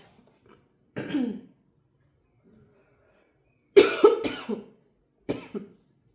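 Several separate coughs, close and fairly loud, with quiet pauses between them and no talking.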